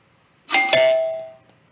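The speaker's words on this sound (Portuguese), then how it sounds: "Deixa eu atender lá a campainha." A doorbell chimes once indoors, a bright two-tone ding with a quick second strike that rings out and decays over about a second.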